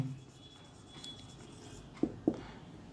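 Chalk or marker scratches across a classroom board as a physics definition is written out, faint soft rubbing strokes followed by two sharp taps near the end, recorded close in a quiet room.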